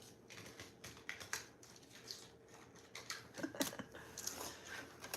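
Tarot cards being shuffled, a quick run of soft papery clicks and riffles close to the microphone, irregular and fairly quiet, with no talking.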